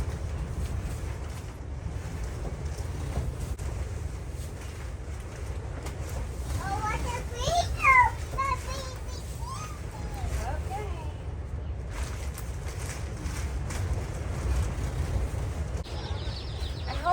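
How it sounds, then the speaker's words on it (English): Strong wind roars and buffets the microphone throughout as a steady low rush, with a few brief chirpy sounds near the middle. "Over the awful wind. The wind is terrible today."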